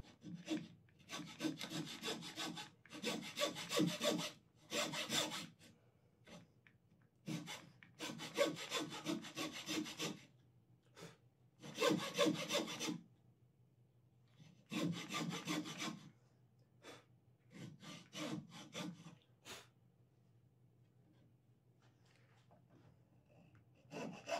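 A hand saw cuts through wood for a chisel-cut joint, in bursts of rapid rasping back-and-forth strokes separated by short pauses, close and fairly quiet.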